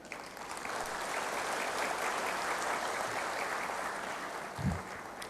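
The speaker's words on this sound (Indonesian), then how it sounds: "Saya ingin aplaus untuk semuanya." An audience at an Indonesian Theravada Buddhist anniversary event claps steadily, a dense, even wash of applause from a crowd heard from some distance, sustained for several seconds.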